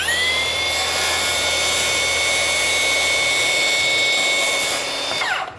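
Milwaukee M18 FUEL 6.5-inch cordless plunge saw spinning up and running steadily with a loud high-pitched whine as it trims a new splinter guard, then winding down at the end; no speech.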